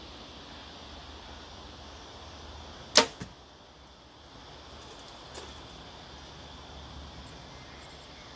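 PSE Perform X 40-inch compound bow releasing an arrow outdoors, a single sharp thwack near the middle with a brief rattle after, then a faint distant impact, over steady quiet background wash.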